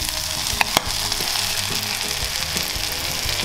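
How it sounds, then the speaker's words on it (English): Eggs frying on a bacon and cheese base in a pan, giving a loud, steady sizzle throughout with a couple of brief sharp clicks near the start. "And now it's time to add the eggs."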